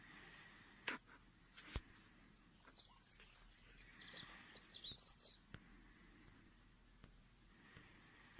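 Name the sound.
birds singing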